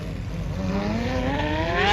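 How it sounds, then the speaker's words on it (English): A Porsche Carrera GT on an event runway during a supercar parade accelerates hard, its engine note climbing steadily in pitch and growing louder over two seconds. "Lovely sound on the Carrera GT."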